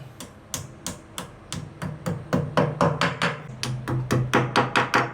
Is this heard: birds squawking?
no